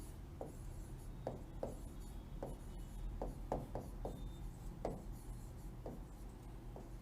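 Chalk or marker writing on a board during a Hindi lecture on the atmosphere and liquid nitrogen, a string of short scratchy strokes in irregular bursts, fairly close, with no talk over it.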